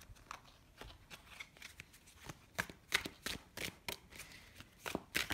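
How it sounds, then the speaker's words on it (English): Tarot cards being shuffled and handled during a reading, a run of crisp riffling slaps and flicks in irregular bursts, close and fairly quiet with no speech over it. "Let's pull a few more cards for the main spread here"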